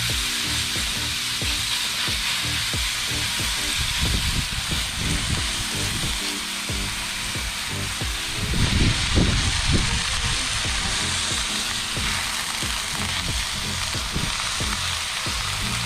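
Ground turkey fries in a pan over a campfire, a loud, steady close-up sizzle with stirring scrapes and a brief surge in intensity midway, no talking.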